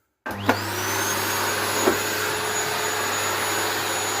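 An Electrolux Cleen500 vacuum cleaner on linoleum switches on with a click and quickly rises to a loud, steady motor whine and airflow roar, with one more brief knock partway through.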